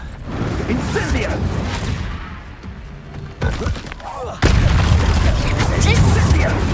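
An Incendio fire spell goes off in Hogwarts Legacy: loud thuds and booming bursts with crackling shatter, a quieter lull, then a sudden louder surge of roaring impact, with speech mixed in.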